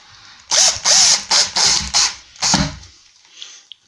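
A power drill with a screwdriver bit drives screws into kitchen units during installation, giving several loud close whirring bursts of about half a second each, then a brief faint click as it stops.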